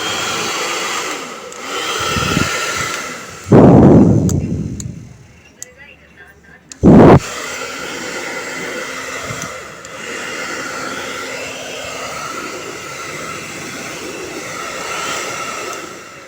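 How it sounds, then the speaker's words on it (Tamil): An electric heating machine hums steadily during a repair check, interrupted by two loud whooshing bursts, with someone talking over the continuous drone. "மிஷின் ஓடுது, ஹீட் ஆகுது."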